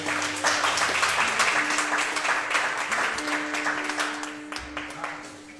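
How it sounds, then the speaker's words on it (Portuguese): Applause rises from a church congregation, steady clapping that is moderately loud and tapers off toward the end, with a faint held tone and some murmuring voices underneath. "Aplauda o Senhor"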